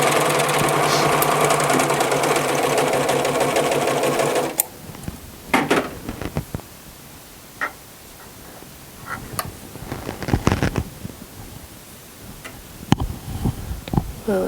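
A serger sewing machine stitching T-shirt fabric runs in a steady, loud, fast mechanical whir for about four and a half seconds, then stops abruptly, leaving scattered clicks and fabric handling nearby.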